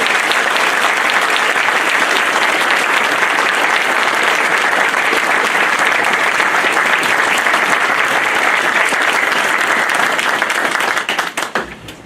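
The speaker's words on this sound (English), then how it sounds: "Thank you for the kind applause." Loud, dense applause from the crowd at a borough reorganization meeting after an oath of office, continuous clapping that holds steady and then tapers off at the very end.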